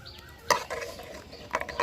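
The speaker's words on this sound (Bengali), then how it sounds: "তো চা পাতাটাকে জলের সাথে খুব ভালোভাবে আমি মিশিয়ে নিলাম।" Tea leaves stirred into hot water in a pan, with a couple of sharp spoon clinks against the pan and soft swishing and sizzling between them, close.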